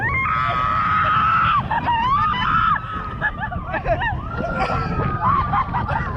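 A woman screams on a kid's roller coaster, long shrill wails sliding up and down in pitch over a rumbling ride and crowd background, heard as a played-back recording.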